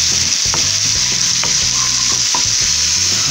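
Garlic and onion fry in a pan for a Peruvian lima bean dish, giving a steady loud sizzle with a few stirring scrapes and taps over it.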